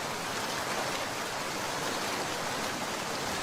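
Steady, dense rain falls during a storm at a fishing spot, a constant even hiss with no pauses or distinct drops, fairly soft and with no voices.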